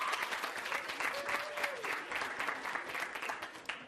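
Audience applause at a high school fall sports banquet for volleyball, cross country and girls golf, a steady dense clapping from a crowd at moderate distance, with a faint whistle-like tone partway through.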